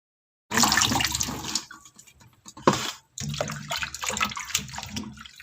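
Tap water runs into a bowl to soak squash flowers, a close, splashy gush that stops briefly, trickles and drips, then flows strongly again.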